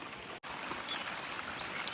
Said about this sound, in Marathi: इकडे गावी पाऊस पडतोय